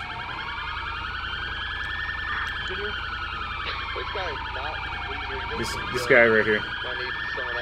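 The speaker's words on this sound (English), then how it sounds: "Let me get my sirens off." A police car siren in the FiveM game, on an Illinois State Police patrol in Kane County, wails and sweeps steadily up and down throughout. Someone speaks briefly over it near the end.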